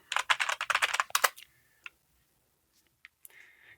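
Fast typing on a computer keyboard, a dense run of crisp key clicks for about a second and a half, then a few isolated taps in near silence.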